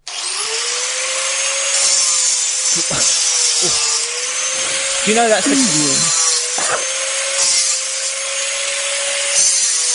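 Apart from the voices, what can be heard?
Makita XAG11T angle grinder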